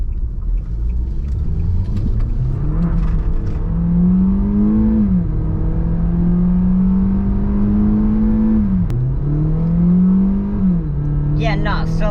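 A car engine idles loudly and revs up twice, pitch rising and falling, close by with a deep rumble throughout.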